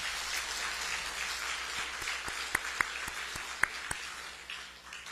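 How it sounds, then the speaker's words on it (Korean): Congratulatory applause from a church congregation for a newly ordained pastor, a sustained crowd clapping with a few crisp, louder claps close by, tapering off toward the end. "축하의 박수 한번 보내주시기 바랍니다"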